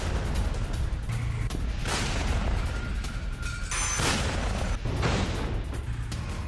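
Howitzer artillery fire aimed at a Ukrainian weapons depot, heard as a continuous rumbling barrage with several dull booms and bursts, loud throughout and without any talking.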